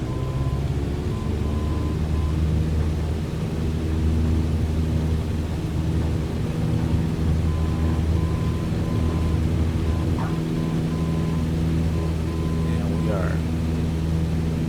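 Cessna 170 taildragger engine at full throttle in MSFS2020, a steady loud propeller-engine drone with a sustained low hum holding throughout, with faint tonal cockpit beeps over it.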